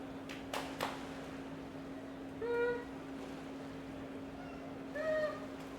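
Two soft, high meows sound a couple of seconds apart, faint against a steady electrical hum, with a few quiet thumps before them.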